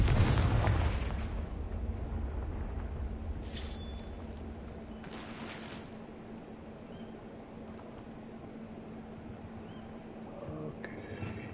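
A Confringo fire spell explodes in the Hogwarts Legacy video game: a loud burst and boom right at the start, then a fading rumble and quieter game ambience with a few brief sharp effects.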